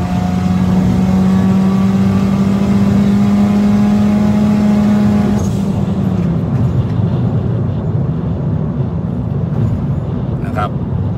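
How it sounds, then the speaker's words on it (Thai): Honda Civic FB Turbo with an automatic gearbox launching hard from a standstill: a loud, steady engine drone heard from inside the cabin climbs in pitch, then shifts abruptly midway and carries on rising. "นี่คือการออกตัวอัตราเร่งเป็นไงฮะ"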